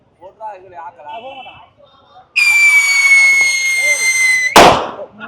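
Firecrackers go off at a Pongal night shop, a long bright shrieking whistle-like fizz followed by a sharp burst, after people chatting nearby.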